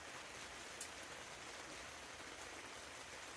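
Steady rain falling outside on a cold day, a soft continuous hiss heard faintly from indoors, even and unbroken with no voices.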